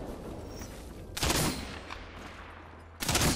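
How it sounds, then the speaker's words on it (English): Two loud bursts of gunfire from the Apex Legends battle royale game, the first cracking in around a second in and lingering, the second hitting near the end, with a low rumble between. "Getting shot at!"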